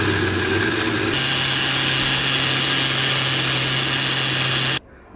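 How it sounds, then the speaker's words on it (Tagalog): A blender whirs steadily as it mixes sugar and three eggs for carrot cake batter, a loud continuous motor drone that shifts pitch slightly after a second and cuts off abruptly near the end. "So, mauna na siya atong i-blend para mo mix jud siya"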